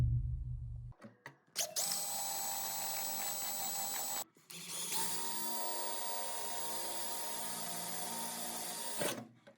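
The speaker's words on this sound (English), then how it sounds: "I'm going to drill out the spot welds and then take that out" A power drill whines at high speed in two long bursts, stopping briefly between them, close and loud with no talking.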